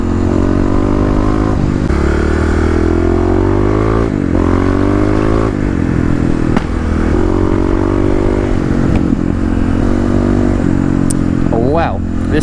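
A Kawasaki KLX351 motorcycle is ridden with a steady, loud engine drone and shifting revs throughout, with clatter and wind near the end.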